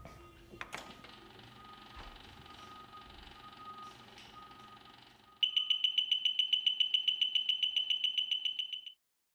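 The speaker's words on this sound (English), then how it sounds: "the slope gauge is going to use the audible alarm to tell you that it's off" A Ventrac tractor's digital slope gauge sounds its audible alarm: a rapid, regular series of loud, sharp electronic beeps that starts abruptly after a stretch of quiet handling noise and then stops just as abruptly.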